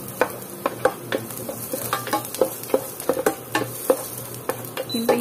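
Five garlic cloves fry in cooking oil in a pan while a utensil stirs them. Quiet sizzling runs under repeated sharp scrapes and clicks against the pan, with no talk.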